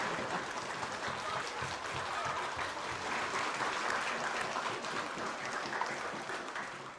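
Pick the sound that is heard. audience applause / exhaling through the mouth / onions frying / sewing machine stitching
audience applause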